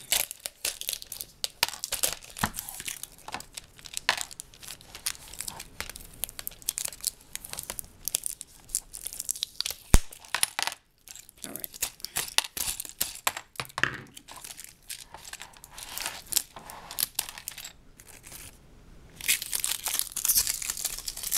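A Lego pick-a-brick cup from the Lego store being opened, with dense close crinkling, tearing of tape and rustling plastic in irregular bursts, a few brief pauses and small knocks of handling throughout.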